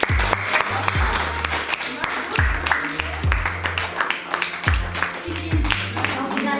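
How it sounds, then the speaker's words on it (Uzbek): Applause from a classroom of students, dense clapping running steadily throughout, overlaid with speech and a few low thumping knocks. "Olqishlaymiz."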